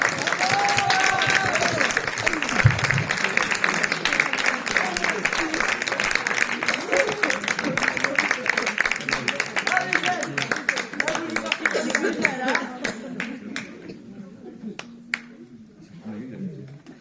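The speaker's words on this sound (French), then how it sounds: "On peut les applaudir bien fort." An audience claps and applauds steadily for several seconds, with scattered voices and cheers mixed in, before the clapping thins out and fades.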